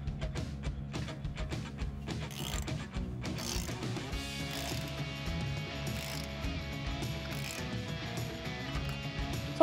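A nut is tightened onto a Jeep Wrangler JK axle with a 1/2 inch wrench and a 3/16 inch Allen key during a Teraflex suspension install, giving quick ratcheting clicks up close, then steadier metallic working noise.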